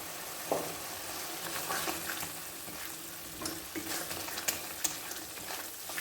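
A ketchup and vegetable mixture for bean tacos fries in a pan, with a soft steady sizzle and scattered stirring clicks, faint and close.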